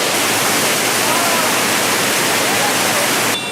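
Steady, loud rushing roar of the Amboli waterfall in dense forest, a continuous broadband wash of falling water with no break.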